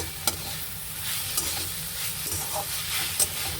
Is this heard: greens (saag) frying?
yes